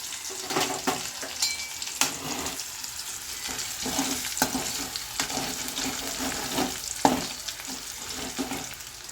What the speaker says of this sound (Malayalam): അതായത് നമുക്ക് വെളുത്തുള്ളി ഇതൊന്ന് മൂത്ത് കഴിഞ്ഞിട്ട് എടുത്താൽ മതിയേ